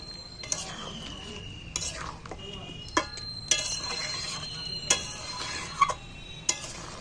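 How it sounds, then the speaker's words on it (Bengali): Spice tempering being stirred into boiled potatoes in a wok, with a series of distinct metallic spatula scrapes and knocks over a faint low sizzle, close by. "এইবার আমি ঘেঁটে একাকার করে দিচ্ছি"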